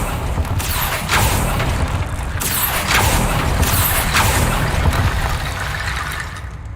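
Fire spell Incendio cast in Hogwarts Legacy, a loud, sustained roaring burst with crackling mechanical rumbles and a few sharp flares layered over dense game ambience.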